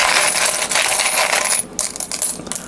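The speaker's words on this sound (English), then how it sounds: "Being aluminium, and really dropped this one." An aluminium coin is dropped and rattles, giving a bright, close metallic clatter that fades over a few seconds.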